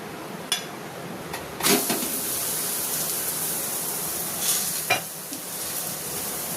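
Oil sizzling in a pan while potato fasting parathas cook, a steady broad hiss with a few sharper bursts and scraping touches, close and fairly loud with no talk.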